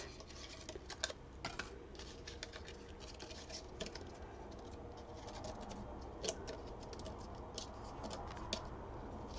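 Paper die-cut frames are popped free of their sheet one after another, giving quiet, scattered clicks and crisp little snaps over a faint, steady rustle.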